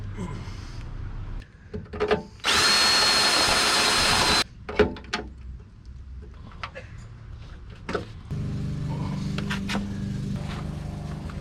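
A power drill whirs loudly in a single two-second burst, drilling a hole on a Jeep Wrangler tailgate, followed by clunks and handling noises and a low hum.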